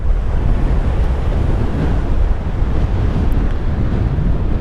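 Strong breeze buffets the microphone on the Irish Atlantic coast at sunset, a steady, loud broadband roar with a faint wash of surf underneath and no voices.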